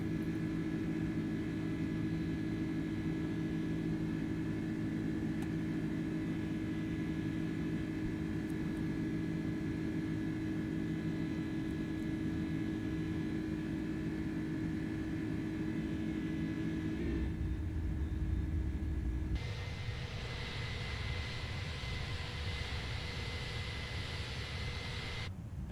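An Airbus A310 in Microsoft Flight Simulator gives a steady, droning jet roar with whining tones that holds for a long stretch, then shifts abruptly to a brighter, hissier rush near the end.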